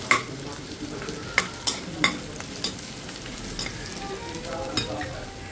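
Chopped garlic, onion and green chilli fry in a pan, giving a soft, continuous sizzle broken by several sharp utensil clicks and scrapes from stirring, with no talking.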